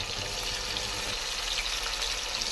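Chopped onions frying in a hot pan for fish curry, a steady loud sizzle and hiss close up that stays constant throughout without talking.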